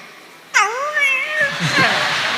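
A man imitates a cat, giving one drawn-out, wavering meow that slides down and then rises again, loud and close, with a murmur of voices and laughter from a religious gathering behind it.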